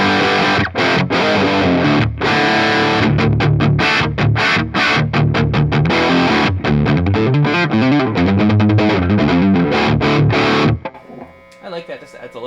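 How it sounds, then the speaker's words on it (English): An electric guitar plays through a Bogner Ecstasy amp with the bright 1 switch engaged, giving a dense, distorted riff that is loud and continuous for about eleven seconds before cutting off to a faint tail. "This adds a little bit more, almost like a jangly, Marshall-y kind of sound."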